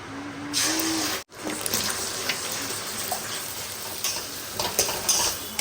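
Egg fries in a wok for chow mein, giving a steady close sizzle broken by a brief pause, with scattered scrapes and clinks of a utensil against the pan.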